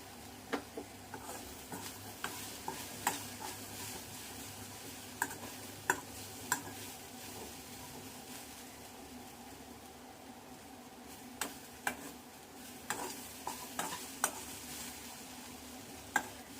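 A corn chaat mixture is stirred in a pan, with a spoon scraping and clicking against the metal in irregular taps over a low, steady sizzle. No one speaks.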